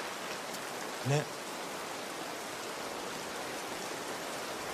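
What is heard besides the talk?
heavy rain falling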